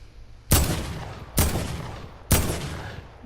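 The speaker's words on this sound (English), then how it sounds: "So it's just the heavy variant of the regular assault rifles that I was just holding." Heavy assault rifle in Fortnite, three loud, evenly spaced single gunshots, each a sharp crack with a short decaying tail, close and without talk.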